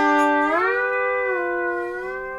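A single sustained note on a steel guitar with a Duesenberg hand lever bends smoothly upward in pitch, then holds and rings out, fading slowly. Clear and solo.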